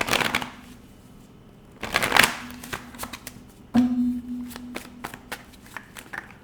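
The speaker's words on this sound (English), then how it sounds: "So last shuffle for my Aries." Tarot cards being shuffled in several quick riffling bursts, close and crisp, with short pauses and light taps between them.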